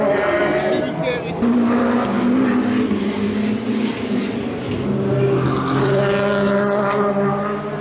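Race cars at the 24 Hours of Le Mans 2025 roar past in a loud, continuous blend of engines rising and falling, with crowd voices and talk mixed in.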